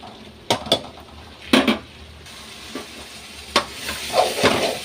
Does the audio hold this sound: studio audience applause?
no